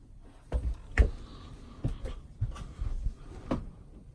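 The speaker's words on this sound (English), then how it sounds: "You open the door to access the DVD player." A hinged cabinet door in a 2002 Pleasure Way Excel-TS Class B motorhome is handled in a series of wooden knocks and clunks, about seven distinct thumps spread unevenly, close by and otherwise quiet.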